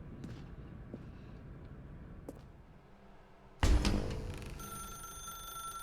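A telephone rings in the video game The Stanley Parable, a loud bright ringing that starts abruptly partway through and continues to the end, with faint clicks before it over a quiet background hum.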